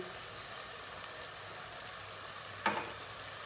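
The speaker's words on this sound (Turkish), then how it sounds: "İçine bir buçuk su bardağı bulgur boşaltıyoruz" Pan of peppers and tomatoes sizzling steadily, then a sudden burst of crackling as bulgur is poured in near the end, the frying briefly louder before settling back into a hissing sizzle.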